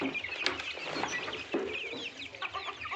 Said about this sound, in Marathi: तुम्ही बघू शकता मित्रांनो आपल्या ह्या गावरान कोंबड्या